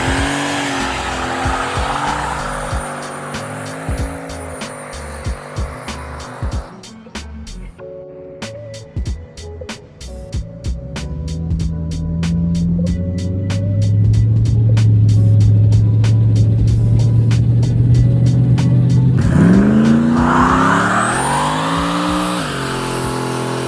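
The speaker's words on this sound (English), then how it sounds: "Couple of burnouts it did." A drag racing car does burnouts, tires squealing and the engine revving hard in long sustained bursts, with a final rising roar of acceleration close by.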